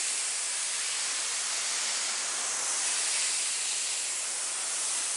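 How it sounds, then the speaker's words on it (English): Spray bottle misting over a tattoo stencil outline, a steady close airy hiss that holds at an even loudness without a break for several seconds. "Spray this, outline it."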